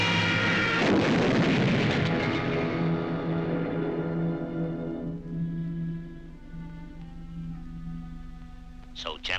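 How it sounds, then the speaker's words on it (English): A cartoon cannon fires, followed by a loud booming explosion that rolls out and slowly decays with a tonal ringing tail, then a brief sharp burst near the end. "You may fire when ready, Van Gridley."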